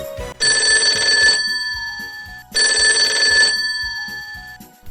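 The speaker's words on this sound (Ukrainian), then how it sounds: "давайте візьмемо слухавку і послухаємо, хто ж це до нас телефонує?" A telephone bell rings loudly in two long bursts, each about a second long, with a pause between them and nobody speaking.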